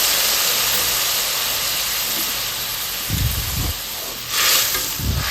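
Water is poured into a pan of frying fish curry, and the hot oil answers with a loud, continuous sizzling hiss, broken by a few low splashy surges as the liquid hits.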